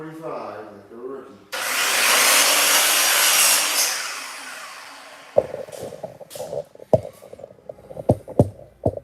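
A 3/4-inch select pine board is hand-sawn at a 45-degree angle for a bathroom shelf. A steady, loud rasping cut runs for several seconds and then gives way to knocks and handling clatter, with voices heard around it.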